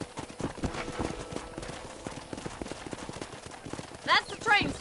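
Rhythmic clip-clop of horse hooves at a gallop in the Red Dead Redemption western video game, steady and close, with game music and ambience underneath and a loud whinny or snort near the end.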